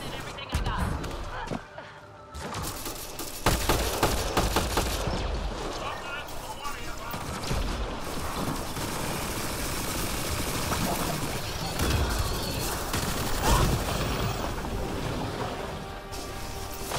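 Gunfire in the shooter Mass Effect Andromeda, bursts of shots and booming blasts over a dense, noisy battle din, with a voice talking over parts of it.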